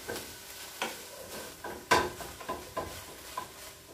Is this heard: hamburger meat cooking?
yes